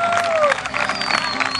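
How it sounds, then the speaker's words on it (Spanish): Festival crowd applauds a coronation at the fiestas in Tejutla, Chalatenango, a dense, fairly loud wash of clapping and cheering lasting a moment, with a whistle-like tone early on. "Fuerte el aplauso."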